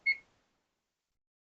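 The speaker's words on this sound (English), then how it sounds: "Set our timer." A kitchen oven timer gives one short, clear electronic beep as it is set, then falls silent. The beep is faint and isolated, with nothing else heard around it.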